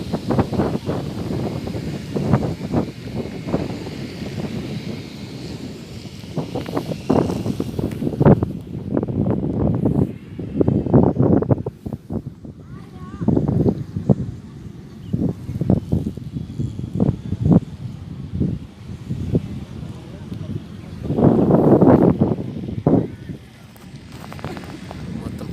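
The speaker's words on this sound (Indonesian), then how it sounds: "Panas tapi angin gede, adem jadinya." Strong wind gusting across the open shore of Setu Babakan lake during a hot, bright day of fishing, rough buffeting noise on the microphone that swells and drops throughout, with people talking over it.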